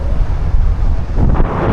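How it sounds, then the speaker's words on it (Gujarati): Loud, steady wind buffets the microphone with a continuous low roar and no voices, cold wind outdoors in Wales, UK. "ટાઢો પવન આવે છે"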